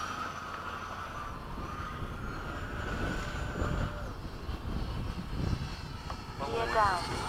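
A MiG-21 jet makes a low pass over the airfield, a broad roaring rush that swells and grows louder toward the end, with voices talking over it.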